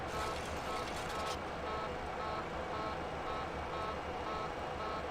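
Cockpit warning beeps in the IXEG Boeing 737-300 in X-Plane 11, a faint, evenly repeating electronic beep over a steady engine and cabin hum.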